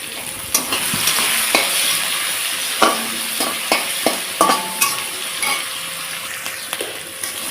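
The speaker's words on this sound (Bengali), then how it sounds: "সেদিকে আমার ডালটা সুন্দর একটু লাল লাল করে ভেজে নিলাম" Chana dal fries in oil in a pan and gets stirred often, so the steady loud sizzle is broken by repeated scraping and clinking of the spoon. No one speaks over the cooking.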